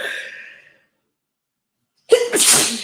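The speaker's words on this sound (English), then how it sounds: "I thought I was going to sneeze." A single sharp sneeze bursts out close by after a brief silence, preceded by a faint breathy sound.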